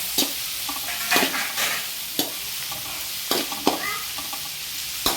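Cumin seeds sizzle steadily in a hot pan while a utensil scrapes and stirs in irregular taps, with no one speaking over the frying.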